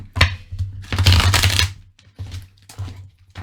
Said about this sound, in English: I like shuffling cards